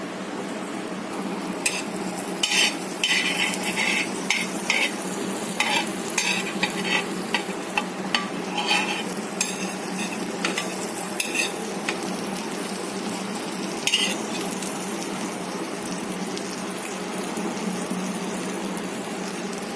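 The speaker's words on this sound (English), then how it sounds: "now we will take this bread and we will fry it" A bread slice spread with cheesy mayo fries in a pan, giving a steady close sizzle with scattered crackles and stirring or scraping sounds, and no talk.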